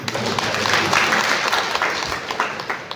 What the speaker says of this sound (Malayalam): ഗായത്രിയുടെ അതിസുന്ദരമായ നല്ലൊരു കയ്യടി.